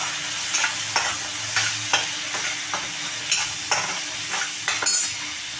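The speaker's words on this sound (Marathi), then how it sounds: "मसाल्याला तेल फुटेपर्यंत आपण मसाला भाजून घेणार आहोत तेलामध्ये." Spice masala fries in hot oil for a dhaba-style curry, giving a steady close sizzle broken by regular scraping strokes of a spoon stirring through the pan, with no voices.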